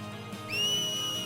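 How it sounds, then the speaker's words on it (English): A rising fingers-in-mouth whistle from Final Fantasy X, the kind used to cheer on Blitz players, sounds as a short, clear, shrill note swooping upward and then holding, heard on its own. "You whistle."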